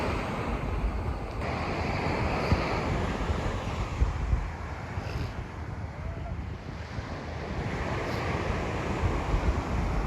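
Waves washing onto a beach, a constant close roar of surf mixed with heavy wind buffeting the microphone, no voices standing out.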